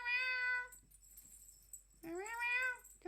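Several cats meowing up close, a clear drawn-out meow, a pause, then another longer, rising meow; no talking.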